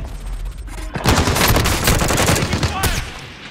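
Gunfire in the video game Warzone, with loud rapid bursts of automatic shots that rattle through the second half after a quieter opening.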